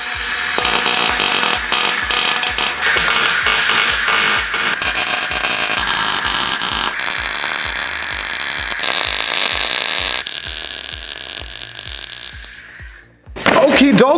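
Welding a steel frame for a glass roof hatch on a camper van, a loud, steady crackling buzz with rapid pulsing, holding for long stretches before cutting off near the end.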